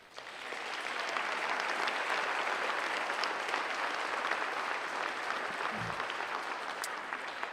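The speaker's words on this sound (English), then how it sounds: "please join me in a round of applause for them" A crowd at a school sports awards ceremony gives a steady, dense round of applause that holds evenly for several seconds at moderate distance, with no voices standing out.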